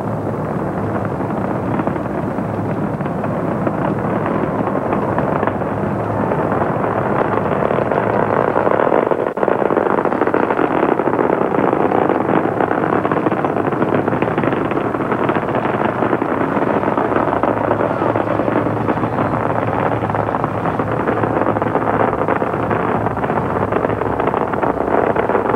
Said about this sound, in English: STS-29 as Discovery clears the tower.